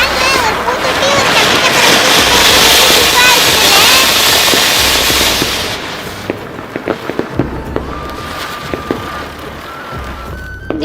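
A flower pot firework sprays a loud, continuous crackling fountain of sparks for several seconds before dying away, followed by scattered pops and quieter background noise.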